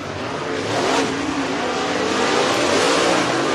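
Race cars coming up to speed on a dirt raceway at The Gobbler event at Duck River Raceway Park, a loud continuous engine roar with rising revs from several cars, steady and close throughout with no talk.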